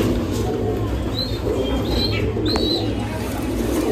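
Panja breed pigeon cooing in low, repeated coos over a steady background hum, joined by a few thin high squeaks.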